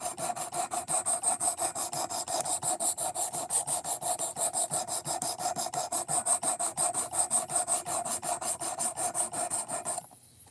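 Knife blade being sharpened, a fast regular rasping stroke repeated about five times per second, close and loud and steady throughout, stopping just before the end.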